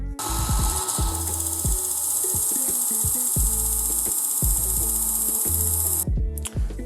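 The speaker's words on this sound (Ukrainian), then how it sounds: "Курок натискаємо, воно їде і поїхали." A Work Sharp Ken Onion MK2 electric knife sharpener runs loud and steady, its belt grinding against a knife blade with rhythmic low-end pulses as passes are made, before the motor cuts off near the end.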